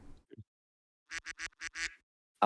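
A duck quacks in five quick, close, loud calls in a rapid row, with brief quiet before and a burst of sound at the end.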